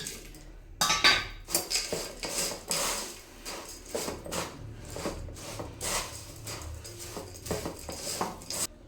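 A spoon scrapes and clinks against a bowl while spiced puffed rice and peanuts are tossed together. The mixing strokes come close and steady, with bright metallic taps throughout.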